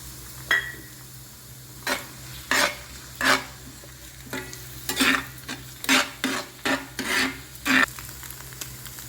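Onions and eggs are stirred and fried in a pan, with a steady sizzle beneath repeated sharp scraping strokes of a spatula, close and fairly loud, with no talking.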